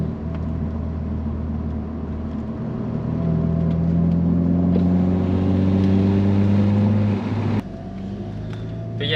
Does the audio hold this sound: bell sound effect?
no